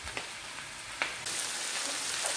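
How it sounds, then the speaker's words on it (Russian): Steady sizzling of onions frying in hot lard, with a few soft clicks and taps of a utensil against the pan. "Обжариваем теперь хорошенько наш лук."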